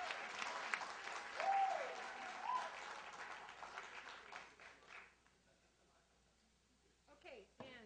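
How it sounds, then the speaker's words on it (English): Audience applause at a Survey Says 2012 game-show event with a Sheboygan Firefighters team, steady clapping that swells then fades after about five seconds, followed by quieter room noise and a brief voice near the end. "Let's give them a round of applause again"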